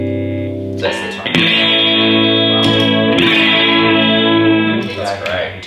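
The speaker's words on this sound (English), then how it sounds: "So it's really doing chorus and you just hear it." Electric guitar played through a plastic chorus effect pedal, sustained chords shimmering with a doubled, modulated tone, loud and steady with a few strums and accents across the clip.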